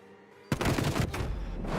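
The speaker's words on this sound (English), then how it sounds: "he loses that gunfight, unfortunately" Gunfire bursts out in a round of a competitive tactical shooter match as the bomb timer runs down. A loud, dense volley of rapid shots starts abruptly and keeps going right to the end after a quiet opening.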